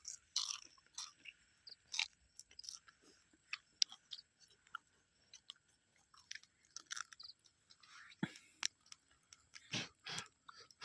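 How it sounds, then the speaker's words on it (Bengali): Roasted papad is crunched and chewed up close in a quiet outdoor setting, with irregular crisp cracking bites and softer chewing scattered throughout, no talking. "বিরাট মজা, পাপড় পোড়া খাই।"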